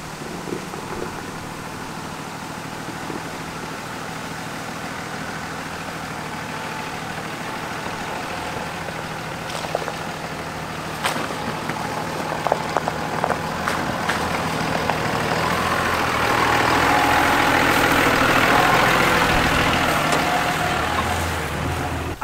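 A Cummins-powered truck on low-profile mud tires and forged wheels idles as it crosses a creek, a steady low engine rumble that swells louder toward the end with a rushing wash.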